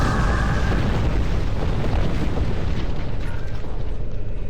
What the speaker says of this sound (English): that ship was not supposed to be destroyed